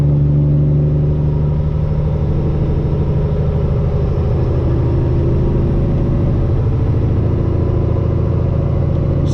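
A custom Peterbilt truck with straight pipes and an 18-speed transmission rumbles loud and close throughout, the engine droning steadily with slight throttle rises and falls between gear shifts.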